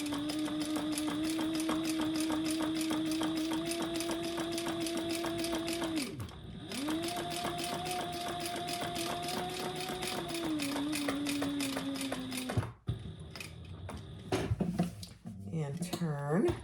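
Sewing machine running a long 1/8-inch top stitch, a steady close mechanical whir that pauses briefly midway, resumes, then stops as the fabric is handled.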